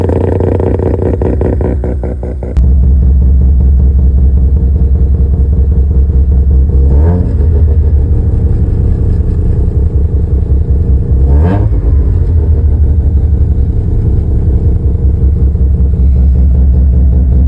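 A Mazda FC RX-7 rotary with a single straight-pipe exhaust idles loud and close, a deep pulsing drone broken by two sharp revs that rise and drop back, with no talking.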